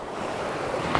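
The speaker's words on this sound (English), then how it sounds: "Good waves, good wind." Sea waves and wind at a UK shore mark while bass fishing in October, a steady loud wash of surf with wind rushing over the microphone, no voices.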